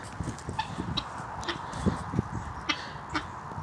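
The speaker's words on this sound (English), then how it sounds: "That is the sound she makes when she is in chicken scratch heaven." A hen clucks softly and contentedly in short low bursts while scratching outdoors among other chickens, with faint rustling and background noise.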